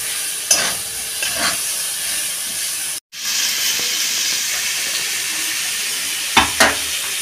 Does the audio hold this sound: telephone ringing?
no